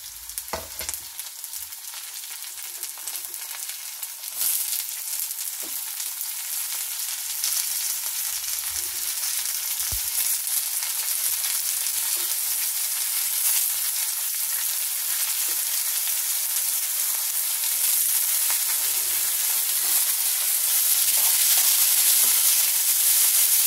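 Bitter gourd (kakarakaya) pieces fry in a pan with a steady, dense sizzle that swells slightly louder toward the end, no talking over it.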